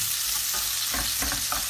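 Ginger and garlic frying in hot oil for a village-style paneer curry gravy, a steady close sizzle with a few stirring scrapes of a spoon against the pan, no voices.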